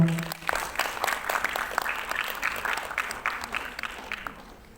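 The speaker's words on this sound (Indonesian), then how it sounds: "Boleh tepuk tangannya untuk beliau." An audience at an election discussion event in South Jakarta claps steadily, a moderately loud spread of hand claps that continues for several seconds before tapering off.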